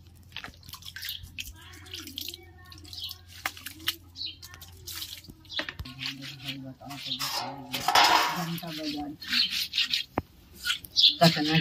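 Small chephua fish being washed and rubbed by hand in a metal vessel, with scattered clinks and scrapes of fish against the pot, water splashes and rubbing noises, loud and close, with some faint voice in the background.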